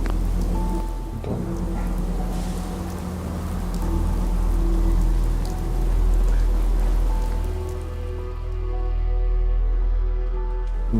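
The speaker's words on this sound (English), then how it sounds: "Damn rain is so good." Steady rain pours across the whole stretch in Fallout 4, a dense even hiss with low rumbling beneath and a few sustained tones of game music layered over it.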